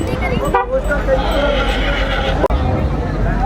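A horse whinnies loudly and close by at a rural horse race in Punjab, with a shrill rising neigh near the start and hoof clip-clop and crowd murmur underneath.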